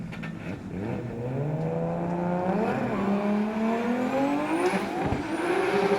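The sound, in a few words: drift car on track at D1NZ drifting championship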